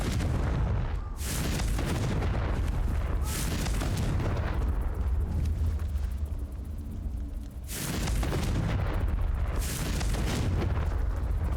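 Explosive blasts from the Confringo fire spell in Hogwarts Legacy, loud booming bursts around one, three and eight seconds over a constant dense rumble of game action.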